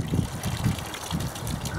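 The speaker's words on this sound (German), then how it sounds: "Mit einer Gießkanne schöpfen Sie Wasser aus diesem Bottich heraus und gießen das Wasser oben in die Pumpe hinein" Water is poured from a watering can into the top of a garden hand pump, a steady splashing trickle with soft rhythmic gushes, close and moderately loud, with no talking.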